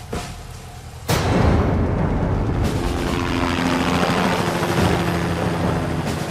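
Military helicopters arriving alongside tanks roar loudly and steadily. The thrumming noise swells sharply after a second and then holds as a dense, continuous wash.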